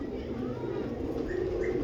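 A purebred female pigeon coos softly at close range, a few low murmuring calls over a background hum, with brief higher chirps near the end.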